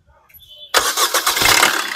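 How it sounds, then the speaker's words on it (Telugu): A 2017 Maruti Suzuki Vitara Brezza ZDi Plus diesel engine starts on the first crank with a sudden loud catch, then settles into a rough, steady close-up idle after a brief quiet lead-in. "సింగిల్ సెల్ఫ్ లో కార్ స్టార్ట్ అయితే ఎటువంటి స్టార్టింగ్ ట్రబుల్ అయితే లేదు."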